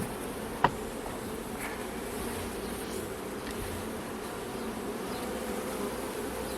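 Honeybees swarm and buzz around open hives during a colony inspection with smoke, a steady dense hum throughout with one brief sharp click near the start.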